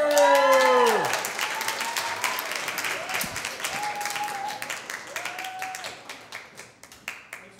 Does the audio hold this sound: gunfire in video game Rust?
no